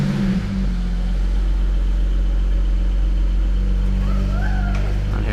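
BMW car engine running at idle after being switched on: a steady low rumble close up, continuous and even, with a brief rising whine near the end.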